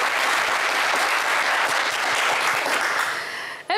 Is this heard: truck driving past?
no